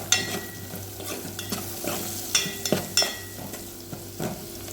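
Soya chunk curry with turmeric fries in a pan, a steady close sizzle broken by repeated scraping stirs and light utensil knocks, with no talking.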